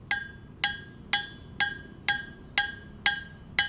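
A hammer strikes a cast iron anvil eight times at a steady pace, each blow a sharp metallic clink with a short ring, close and clear.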